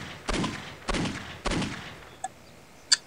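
Long-range headshot gunfire in the video game Postal 2: three sharp shots about half a second apart, each with a short rumbling tail, followed by two fainter clicks.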